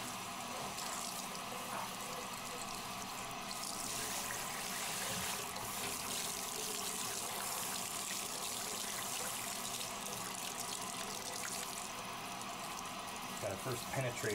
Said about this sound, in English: Gotta first penetrate his fur with the water.